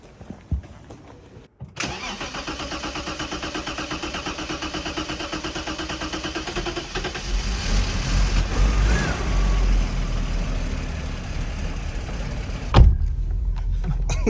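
BMW M5 engine cranking briefly and catching, then idling steadily with a low throb that rises slightly in revs before cutting off, close and loud, with a short quiet gap at the start.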